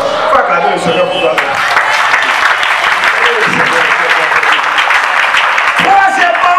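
A church congregation applauds the Lord during a pastor's sermon, with steady, dense clapping from a crowd that stays loud and continuous throughout, mixed with voices.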